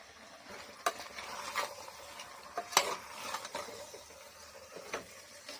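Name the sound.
biryani masala with chili powder and ghee frying in a pan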